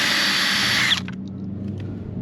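A power drill removing screws from the rear door of a 2007 Toyota RAV4, whining steadily for about a second, then stopping, leaving faint clicks and a low background hum.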